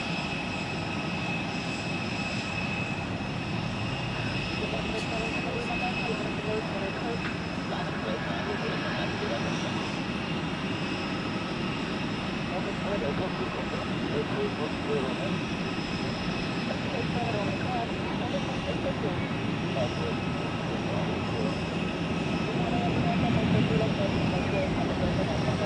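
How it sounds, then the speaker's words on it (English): At Zurich Airport an airliner starts its takeoff roll toward a westward climb-out, its engines giving a loud sustained roar that holds steady and swells slightly near the end, with a person talking over it. "Let's now commence takeoff roll and we'll be climbing out"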